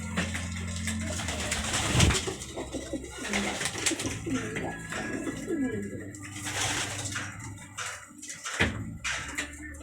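Racing pigeons coo repeatedly in a close, busy loft, soft throaty calls overlapping with rustling and occasional wing flutters.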